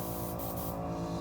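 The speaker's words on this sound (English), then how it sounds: "just want to make sure to spray clean between each color until your color's spraying clear" Soft continuous hiss of an airbrush spraying paint on a Boba Fett helmet, with a low hum beneath and a few brief bursts of air near the start.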